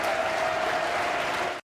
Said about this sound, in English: Standing applause for Ryan Longman